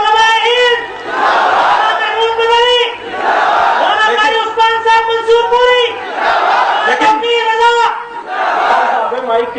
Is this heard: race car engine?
no